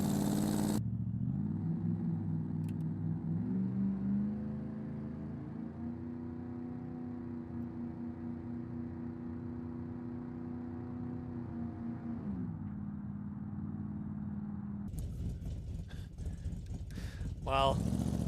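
A car engine in the BeamNG driving game rumbles steadily, rising slightly in pitch early then holding a sustained drone before easing off, with scattered clatter and a voice speaking near the end.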